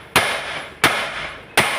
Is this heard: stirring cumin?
no